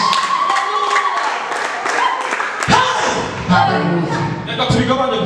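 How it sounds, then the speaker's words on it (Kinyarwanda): A church congregation breaks into loud clapping, with many hands sounding together in a dense burst, along with voices and thuds mixed in. "Twahaye Imana amashyi menshi."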